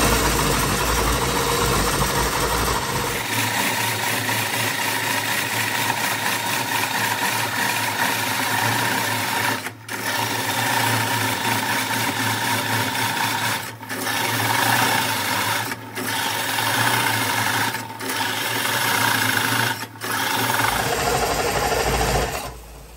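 A wood lathe cores a bowl with a Oneway Easy-Core coring knife, a loud continuous rasping cut over the motor's drone, broken by several brief pauses, with the motor winding down near the end.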